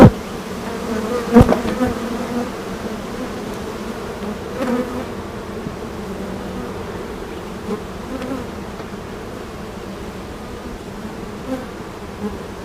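Honey bees buzz steadily in an opened hive during a beekeeping inspection, a dense continuous drone with a few brief knocks and handling bumps, close and moderately loud with no talking.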